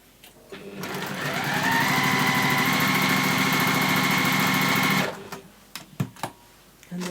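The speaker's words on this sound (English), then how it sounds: "pop right up against the needle and carry on sewing" Sewing machine stitching fabric for a scrappy pouch, a close, steady mechanical whirr running for about four seconds before stopping, followed by a few light clicks and handling sounds.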